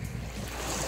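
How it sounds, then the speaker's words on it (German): Wind gusting across a microphone on a Baltic Sea beach on Rügen, a steady low rumble with broad hiss and surf-like wash throughout, fairly loud and continuous, with no voices. "Ein bisschen windig, den man vielleicht jetzt ein bisschen im Mikrofon hört, den Wind."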